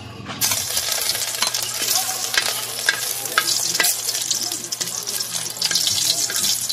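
Garlic hits hot oil in a pan and sizzles loudly and continuously, with frequent clinks and scrapes of a utensil stirring close by and faint voices in the background.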